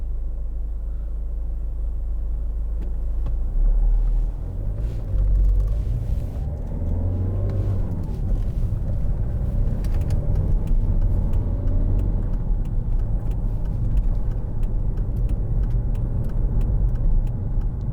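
A 2011 Volvo V50 1.6 D2 R-Design diesel estate drives along the road, heard from inside the cabin as a steady low engine drone and tyre rumble with mild swells in revs.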